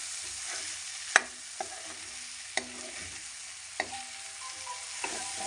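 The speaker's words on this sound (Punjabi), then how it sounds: "ਮਸਾਲਿਆਂ ਨੂੰ ਮਿਕਸ ਕਰ ਲੈਂਦੇ ਆ ਚਨਿਆਂ ਨੂੰ ਆਲੂਆਂ ਨੂੰ" Chickpeas and potatoes stirred with spices in a pan give a soft, steady sizzle broken by several sharp knocks of the spoon against the pan at irregular intervals, close by with no voices.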